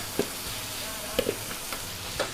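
Blanched minced pork being stir-fried with garlic and chili in a pan, a close, steady sizzle with a few sharp scrapes and clanks of the spatula spaced irregularly throughout.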